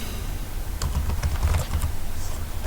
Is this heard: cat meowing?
no